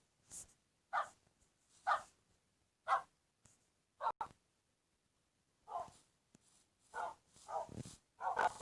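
Dogs from a Minecraft dog mod bark in short, separate bursts, about a dozen sharp game barks spaced roughly a second apart with quiet gaps between them.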